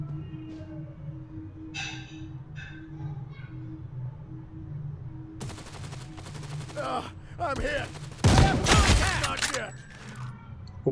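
Gunfire in the Modern Strike mobile shooter game, a mix of distant shots and a louder close burst near the end over steady background game ambience and music.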